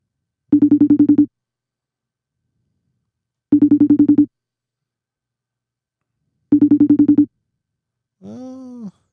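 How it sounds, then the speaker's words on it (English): Electronic phone ringtone repeating three times at steady intervals, each short warbling burst clear and fairly loud, followed by a brief voice at the end; heard during a podcast call-in with no other sound between rings. "Is your phone ringing over there yet?"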